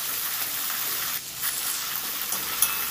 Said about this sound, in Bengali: অল্প পরিমাণ আদা আমি দিয়ে দিলাম, দিয়ে আদাটাকে সুন্দর করে ভেজে নেব যতক্ষণ না কাঁচা গন্ধ যায়।